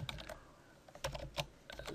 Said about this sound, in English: So name, I'm gonna put, let's say Alicia